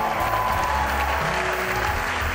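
Audience applause for the front of house and backstage crew after a stand-up comedy show, a dense, steady wash of clapping with a low hum running underneath throughout.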